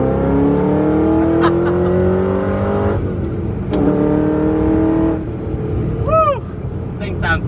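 Straight-piped Ford GT V8 revs hard and loud up through the gears, a brief lift between pulls, rising close by, with an occupant's voice heard inside the car.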